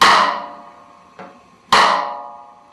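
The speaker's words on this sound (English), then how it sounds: "you just strike the rim and you immediately lift your hand so that the whole drum resonates" Two sharp, ringing strikes on a drum rim, each followed by a resonant decaying tone, with a softer tap between them.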